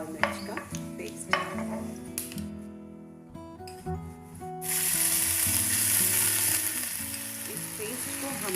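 Ginger and green chilli paste frying with cumin, fennel and whole coriander seeds, a few clinks of a pan before a loud, steady sizzle takes over, with light music underneath and no talk.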